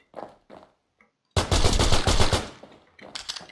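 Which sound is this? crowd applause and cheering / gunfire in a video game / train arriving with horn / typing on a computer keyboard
gunfire in a video game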